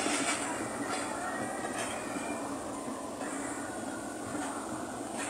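A train rolls past through floodwater in Gujarat, India, in a continuous rumble, wheels clacking at regular intervals over the tracks, fairly distant and steady.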